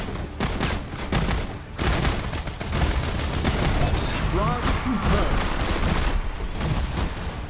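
Rapid automatic gunfire in the mobile shooter game FRAG: Pro Shooter, a loud, dense stream of shots running almost the whole time under game sounds.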